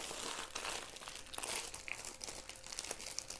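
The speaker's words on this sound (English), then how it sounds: "So we've got the plastic bag." Plastic bag from a diamond painting kit crinkling continuously up close, with dense crackling and rustling throughout, and no talk.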